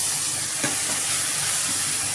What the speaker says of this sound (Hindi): टमाटर को भी हम अच्छे से पहले भून लेंगे